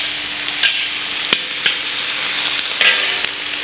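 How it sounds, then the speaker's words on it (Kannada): Spices frying in ghee for bisi bele bath, a steady close sizzle with a few sharp ladle taps and scrapes scattered through, no voices. "ಹಾಗಾಗಿ ಸ್ವಲ್ಪ ತುಪ್ಪದಲ್ಲಿ ಫ್ರೈ ಮಾಡ್ಕೋಬೇಕು."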